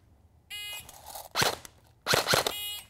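A shot timer beeps and is followed by airsoft pistol shots at targets during tactical training, close, sharp pops that come in two quick pairs after the buzzer.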